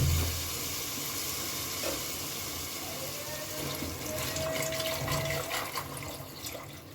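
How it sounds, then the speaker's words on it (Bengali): Water poured into a pan of spiced peas cooking for ghugni, a close, steady splashing pour over hissing sizzle that swells toward the end, with no talking. "এবার এর মধ্যে দিয়ে দেবো পরিমাণ মতো জল"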